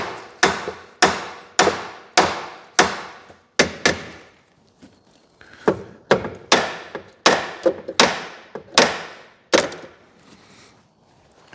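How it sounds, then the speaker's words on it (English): A hammer repeatedly strikes a stuck starter motor on a 2CV-based Falcon S kit car abandoned for 23 years, giving loud, sharp metallic clouts in quick bursts with brief pauses between runs. "we might need a bigger hammer"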